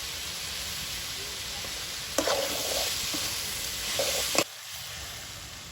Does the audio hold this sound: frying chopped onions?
yes